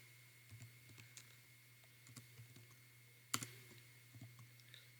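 Sparse keystrokes on a computer keyboard while HTML code is typed, faint scattered clicks in a quiet room with a low steady hum and a couple of louder taps.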